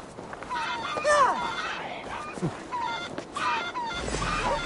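Chickens cluck and squawk in a medieval village scene in Assassin's Creed Valhalla, repeated bird calls near and fairly loud, with footsteps and game voices talking over them.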